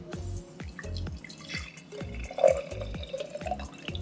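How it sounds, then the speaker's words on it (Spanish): About 150 millilitres of Del Valle 100% apple juice is poured into a container for a homemade sports drink, giving a close, quiet series of rhythmic glugging splashes and drips with no talking. "Lo vertimos aquí."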